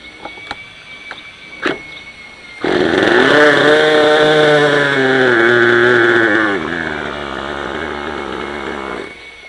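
A Raptor 30 gasser small gas engine, cold with the throttle trim fully up, starts abruptly after a few faint knocks and runs loud and steady with a buzzing, chainsaw-like tone, dropping slightly in pitch partway before cutting off near the end.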